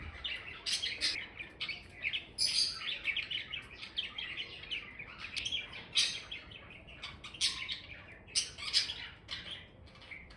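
Farm hens calling, a busy chorus of loud, close squawks and clucking chirps repeating in irregular bursts throughout, with no voices.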